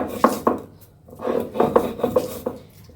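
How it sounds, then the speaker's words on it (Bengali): Dried red chili being ground on a grinding stone, heard as a rhythmic series of close, gritty scraping strokes with short pauses between them, and no voices. "আগে শুকনো মরিচটা বাটতেছি"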